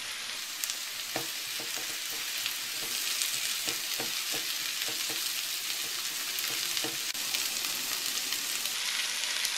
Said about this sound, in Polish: I przez chwilę będę podsmażać do momentu, kiedy pietruszka i marchewka zmiękną. I teraz dodaję cukinię z papryką.